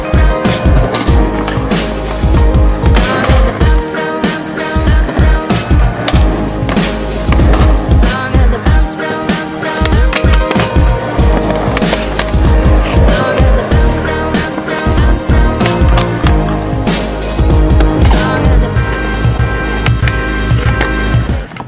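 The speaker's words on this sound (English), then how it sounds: "we're gonna get some skateboarding clips for you guys" Skateboard wheels roll loudly and continuously across pavement, broken by repeated sharp clacks and thuds of board tricks and landings.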